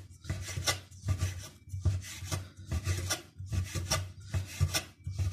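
A knife slices rolled homemade noodle dough on a wooden board in a steady rhythm of scraping, thudding cuts, roughly one every second, close and clear.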